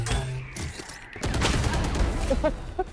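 Rapid gunfire in the shooter game Valorant, a brief burst of close shots followed by a dense, rattling spray of automatic fire with sharp repeated cracks, no talk.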